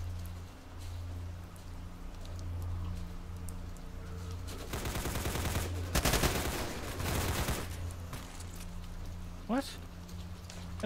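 Gunfire in the game S.T.A.L.K.E.R.: Call of Pripyat, with bursts of rapid automatic shots clustered in the middle over a low ambient hum, plus a brief sharp sound near the end.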